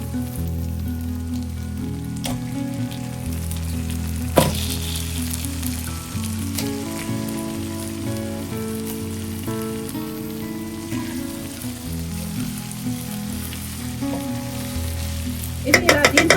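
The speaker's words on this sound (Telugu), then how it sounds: "ఫ్రెండ్స్ ఇప్పుడు చికెన్ వేసేసుకుందాం" Chicken pieces for a methi chicken curry frying in a pan, giving a steady sizzling hiss throughout with a few soft stirring clinks and a sharper knock near the end.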